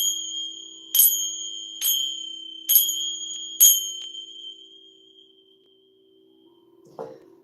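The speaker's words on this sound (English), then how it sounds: "I'm going to go ahead and use my chimes to just clear the energy," Chimes ring during a live spiritual energy-clearing session: four bright metallic strikes about a second apart, each with a long shimmering sustain that slowly fades, followed by a soft low knock.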